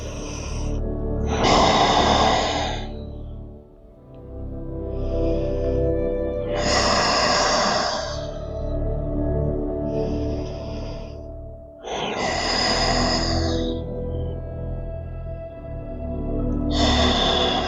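Slow, deep breathing held in a yoga child's pose: about four long inhale-exhale cycles, each a loud, close, airy rush of breath separated by short pauses, with no talking.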